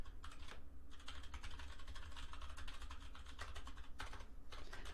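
Loud computer keyboard typing, a steady stream of close, rapid key clicks with brief pauses, heard alone.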